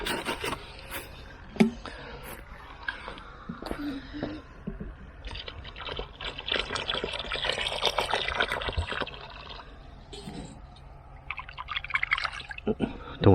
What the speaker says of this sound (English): turn the pump on to rinse myself off again